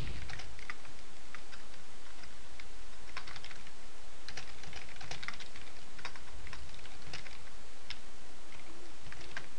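Keys clatter on a computer keyboard as Java code is typed, a steady patter of quick clicks in short bursts with brief pauses, close and moderately quiet with no talking.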